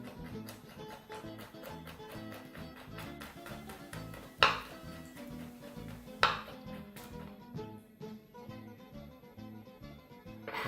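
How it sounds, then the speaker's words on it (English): A sharp knife chops garlic coarsely on a cutting board, a quick run of light rhythmic taps under soft background music, with two louder knocks partway through. "Now begin by firstly chopping your garlic really coarsely with a sharp knife."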